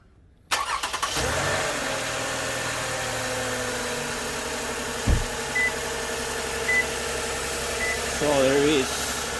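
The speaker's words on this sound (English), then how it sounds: "I should be able to turn the car on, the engine on, without any issues." A 2013 Toyota Sienna with a freshly replaced battery cranks and catches, then settles into a steady, close idle. A few short electronic chimes sound over the engine.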